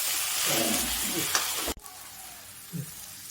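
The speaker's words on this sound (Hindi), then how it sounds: "इसको इतनी देर भूनेगी कि इसका पानी थोड़ा सा मर जाए।" Cabbage and potatoes with Kashmiri chili sizzle and crackle steadily in a hot pan, with a scrape of stirring, then the sizzle abruptly drops to a quieter hiss.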